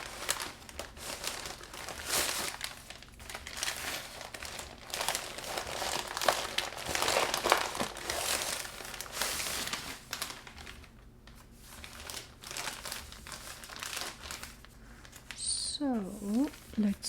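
A plastic packaging bag from a Baleaf yoga-pants order is peeled open and handled, giving a long, continuous crinkling and rustling nearby, with brief sharp bursts and a faint voice near the end.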